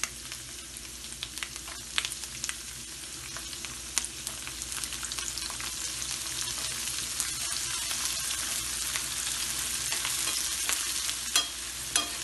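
Almonds and pistachios fry in two tablespoons of ghee with a steady, continuous sizzle, stirred now and then with light scraping clicks, close and moderately loud throughout with no talking.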